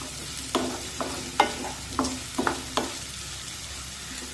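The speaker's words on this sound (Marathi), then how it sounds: "आता मध्यम आचेवर हा कांदा छान गुलाबी रंगावर परतून घेऊया।" Onion sautés in a pan over a medium flame for dal kanda, a soft steady sizzle broken by repeated scraping stirs of a spatula, close and moderately quiet with no talking.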